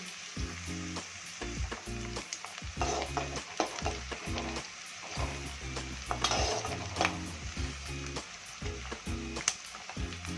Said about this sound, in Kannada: ಫೈವ್ ಮಿನಿಟ್ಸ್ ಈರುಳ್ಳಿನ ಚೆನ್ನಾಗಿ ಫ್ರೈ ಮಾಡಬೇಕು